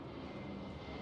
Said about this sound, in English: C-47 cargo airplane